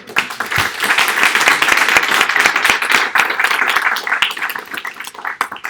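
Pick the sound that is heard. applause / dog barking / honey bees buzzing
applause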